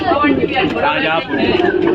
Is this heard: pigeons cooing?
yes